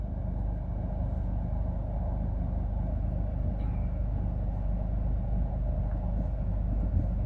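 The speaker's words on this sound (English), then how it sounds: "Slow train moving." A low, continuous rumble of a train rolling slowly past, steady and heavy throughout with no voices.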